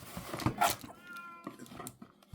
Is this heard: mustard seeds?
no